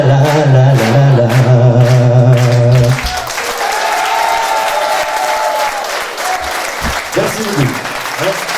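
Audience applause for a performer at a live music show breaks out as singing ends, a loud, dense crowd clapping that carries on steadily after the music drops away.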